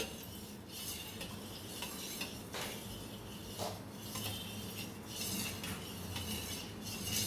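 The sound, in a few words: stirring payasam with condensed milk in a pot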